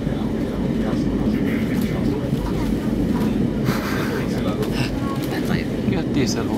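Steady diesel engine rumble and rail noise heard aboard a heritage train travelling between Helsinki and Tikkurila, continuous and moderately loud throughout, with people talking over it.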